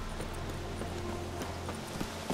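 Roach, the horse in The Witcher 3, clip-clops along with steady, evenly spaced hoofbeats over a low ambient hum, moderately close.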